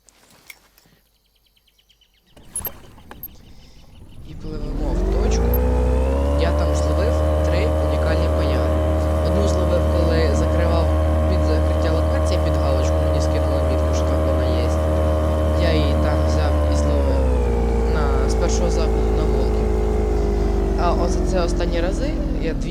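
A video game motorboat's outboard motor starts and then drones steadily at a constant pitch, a loud, even engine hum running to the end with faint chirps behind it.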